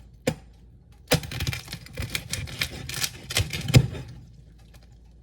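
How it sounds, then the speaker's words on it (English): A knife saws into roasted pork belly, its skin crackling in a rapid run of sharp, close crunches and clicks after a couple of isolated snaps. "I can't cut it, guys."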